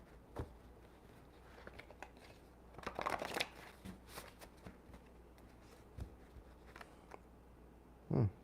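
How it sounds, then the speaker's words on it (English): Tarot cards are shuffled up close, with a run of soft riffling and flicking bursts, a denser flurry in the middle, and quiet pauses between, ending in one sharper slap. "I split up the cards into 3 different decks after shuffling"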